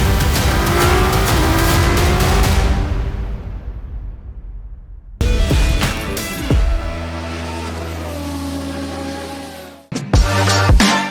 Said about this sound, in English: This is a 1977 911S. It is a Targa model.